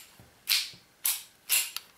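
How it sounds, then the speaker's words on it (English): The metal slide of a WE M92 gas blowback airsoft pistol slides back onto the frame rails with three quiet scraping strokes, close and faint. "Slide in the slide back onto the frame rails there."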